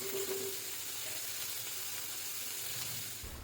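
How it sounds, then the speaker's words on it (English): Three large, finely chopped onions fry in vegetable oil in a steel pan, giving a steady, even sizzle that holds close and constant for the whole stretch, with no talking. "We'll fry these onions well till they are nice and soft."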